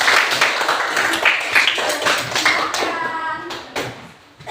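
Students in a classroom give a short burst of applause: close, dense hand clapping that carries over the first few seconds and then tapers off, with a few children's voices mixed in.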